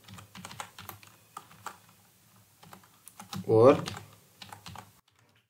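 Close keystrokes on a computer keyboard as C++ code is typed, coming in quick bursts with short pauses, while someone speaks briefly over the clatter.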